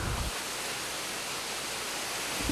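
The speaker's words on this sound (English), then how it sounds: "We finally came to a beautiful, stunning waterfall" Waterfall in a gorge on Kosrae Island, a steady, loud broadband rush of falling water that fills the whole stretch without any voices.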